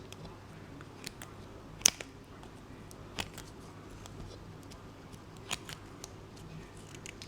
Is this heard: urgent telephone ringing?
no